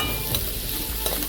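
Garlic, chili and coriander leaves fry in a pan with a dense, continuous hiss, brief and close, with a couple of faint stirring knocks.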